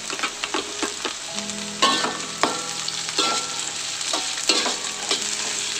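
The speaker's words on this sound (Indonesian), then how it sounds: "Aduk dan gongso-gongso sampai cabenya layu." Chili peppers stir-fried with shallots and garlic in a pan, a steady sizzle broken by repeated scraping and clacking of a utensil against the pan, close and alone with no talk.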